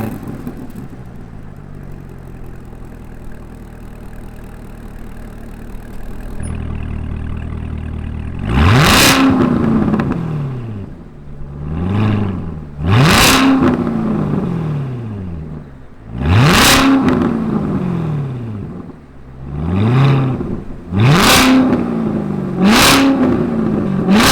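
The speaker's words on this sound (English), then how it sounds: "Let's fire it up and hear the sound of this V8 beast." A 2019 Chevrolet Corvette C7 ZR1 V8 settles into a throaty idle, then lets out a series of loud, close revs that each rise sharply and fall back, about six blips in all.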